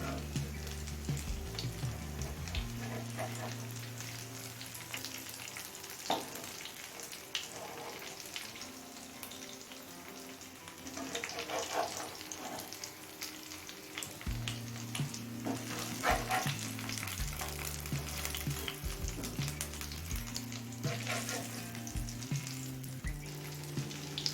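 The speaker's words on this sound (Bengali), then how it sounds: "সব কটা পটল উল্টে নিয়েছি এবার অপর সাইডটাও কিছুক্ষণ ভাজা হতে দেবো" Stuffed pointed gourd fries on a medium flame in a pan, giving a continuous close sizzle with occasional stirring sounds over a low, steady tonal hum. Nobody speaks.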